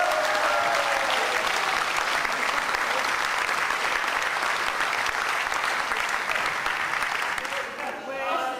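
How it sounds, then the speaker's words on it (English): Sustained audience applause fills a wrestling show venue as a British wrestling legend receives an award, steady dense clapping throughout with a slight dip near the end. "Give him a round of applause, Marty Jones."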